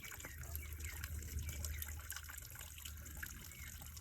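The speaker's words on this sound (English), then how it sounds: "that pump is picking up all the sludge from the bottom and running it into this hose" A pond pump discharges sludge-laden water from the pond bottom through a hose into a collecting container, giving a steady, close trickling and gushing flow with a low rumble throughout.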